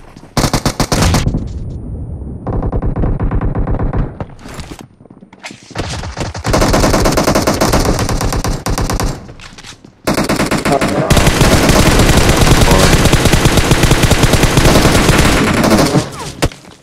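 Rapid automatic gunfire in the battle royale game PUBG, long loud bursts of shots packed tightly together with short pauses between volleys, very close and harsh.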